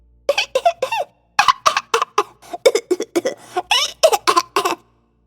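A storyteller's voice imitates a coughing fit: a string of short, sharp coughing bursts in uneven clusters, close and fairly loud, with brief pauses between the groups.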